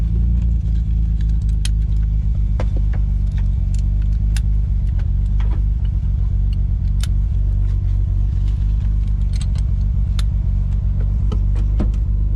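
A modified 1989 Nissan R32 Skyline GT-R cruises along, its engine a steady loud low drone with road rumble and occasional sharp ticks and knocks from the cabin, continuous with no talking.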